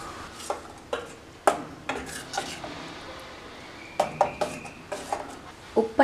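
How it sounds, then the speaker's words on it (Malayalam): Curd being stirred into ridge gourd pachadi in a pot, with a spoon knocking and scraping against the metal in sharp irregular clinks, some quick clustered strokes, over quiet background. "അതിനകത്തേക്ക് ചേർത്ത് നന്നായിട്ട് മിക്സ് ചെയ്ത് കൊടുക്കാം."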